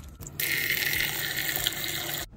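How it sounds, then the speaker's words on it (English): Tap water runs steadily into a chicken waterer holding about a gallon, a close, continuous rushing fill that starts abruptly and cuts off near the end. "I only fill it up halfway to add this into 1 gallon of water."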